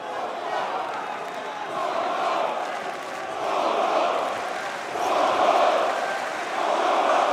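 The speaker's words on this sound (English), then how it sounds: "You can hear this Parisian crowd, of course, behind Czech Kongo." A Parisian crowd roars through a Bellator MMA fight involving Ryan Bader and Cheick Kongo, a dense, steady wall of cheering and shouting that swells in waves every couple of seconds and never drops away.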